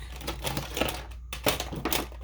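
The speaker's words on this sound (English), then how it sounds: "I once again shuffle through the shit on my desk" Items shuffled around on a cluttered desk, a run of close, dry clattering and crinkling knocks with a brief pause midway before the rummaging resumes.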